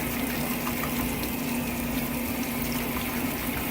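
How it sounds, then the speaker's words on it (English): Water gushes steadily as a laundry detergent cup is rinsed out beside a washing machine, a dense, continuous rushing with a low pump-like hum underneath. "What I'm doing here is just washing out the cup so it doesn't make a mess when I put it away."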